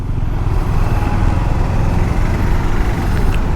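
A Hero Xpulse motorcycle engine pulling away on the clutch, a loud, close, steady low rumble that holds even throughout with no talking.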